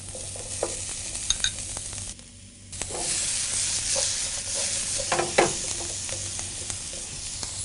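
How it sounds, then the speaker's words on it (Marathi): Onion, red and yellow bell pepper and pineapple pieces fry in hot oil in a pan, a close crackling sizzle broken by a brief lull, then stirring scrapes and spitting pops. "तेल गरम झालं, त्यात कांदा, लाल शिमला मिरची, पिवळी शिमला मिरची, थोडे अननसाचे तुकडे"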